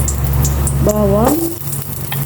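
Garlic fries in a pan for Filipino sinigang, giving a steady, close, loud sizzle throughout, with a brief tonal squeak partway through.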